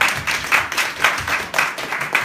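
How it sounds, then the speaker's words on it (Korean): An audience at a talk on cooperative cities claps in uneven rhythmic bursts, loud and close, with the clapping swelling and dipping in pulses for a couple of seconds. "큰 박수로 다시 한번 부탁드립니다."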